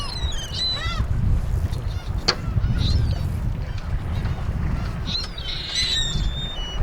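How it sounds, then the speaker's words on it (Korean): Sea gulls flock to a harbor chasing food, their sharp honking calls breaking out here and there over a steady low rumble of water and wind. "먹이를 쫓아 바다 갈매기들은 항구로 모여든다"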